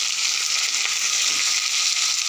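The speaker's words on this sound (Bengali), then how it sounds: "সবুজ কপিটা একটু ভেজে নেব।" Green cabbage fries in a pan with a steady, even sizzle, close and continuous with no talking.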